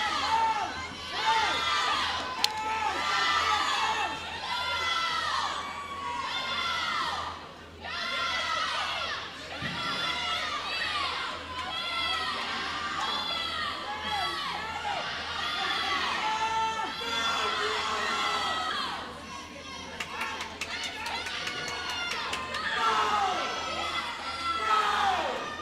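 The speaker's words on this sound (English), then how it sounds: "The crowd is in cheers for," Crowd cheering and shouting at a high school swimming meet between Woodland Hills and Penn Hills, with many children's voices. The noise is dense and sustained throughout, rising in waves with brief dips.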